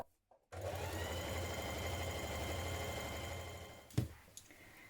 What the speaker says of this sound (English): you're going to do two lines of gathering stitches around the raw edge of your neck ruffle like this